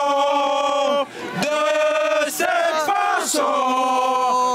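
A crowd of demonstrators sings a new verse to the Marseillaise in full, sustained unison, many voices loud and close with brief pauses between phrases.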